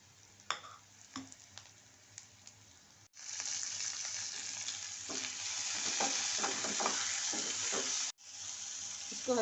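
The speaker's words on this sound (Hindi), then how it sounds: "इसको हल्की आंच पे टमाटर और प्याज को करना है" Chopped tomatoes and onions frying over low heat in a pan while being stirred, with a few clinks before a steady close sizzle rises and continues, briefly cut off near the end.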